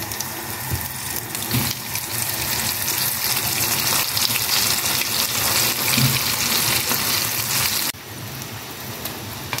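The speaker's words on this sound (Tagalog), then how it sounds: "Ayan, pwede na natin iprito" Chicken feet deep-frying in hot oil give a loud, dense, steady sizzle and crackle up close, continuing unbroken throughout and dropping slightly in level near the end.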